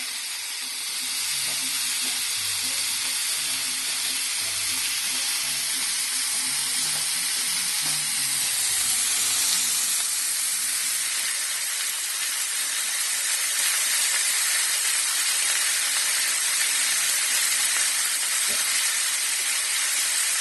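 About two pounds of ground beef frying and being stirred in a pan for picadillo con papas, a loud sustained hissing sizzle with occasional scraping, no speech.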